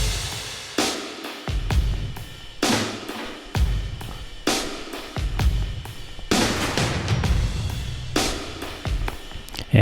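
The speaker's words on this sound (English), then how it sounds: "all I'm doing is rides and then like little tiny fills" A Superior Drummer rock kit plays steady ride cymbal patterns broken up by quick little fills, with punchy kicks and snares in a busy continuous groove and no talking.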